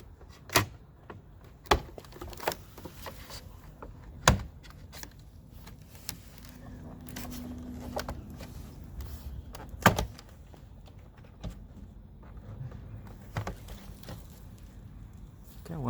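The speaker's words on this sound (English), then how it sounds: "taking the clips apart, popping the clips out of the door" Plastic retaining clips popped out of a 2007-2014 Mercedes W216 CL door panel, heard as a handful of sharp, irregular snaps and clicks spread over a quiet background with faint handling rattles.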